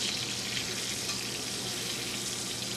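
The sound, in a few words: scallops searing in a pan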